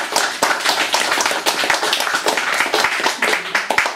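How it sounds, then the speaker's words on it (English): An audience applauds a poet at an evening poetry reading, with a dense burst of hand clapping from a crowd that sounds close and lively throughout. "if I could just invite you to applaud each of the poets who's come here tonight"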